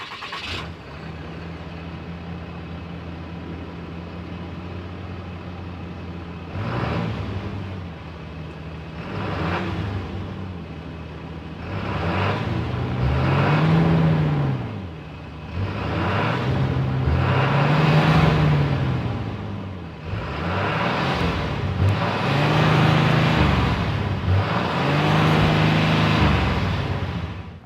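A Cummins 6.7 liter six-cylinder turbo diesel engine in a 2025 Ram 2500 Laramie cranks and settles into a steady idle, then revs repeatedly in rhythmic swells, rising and falling with a deep rumble.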